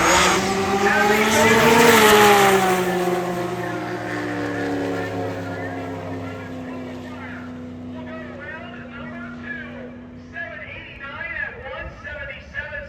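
A 2001 Camaro street car from Largo, Florida launches at a drag strip, its engine roaring loud and close and then sweeping away into the distance. An announcer talks over the engine and keeps talking as the sound fades.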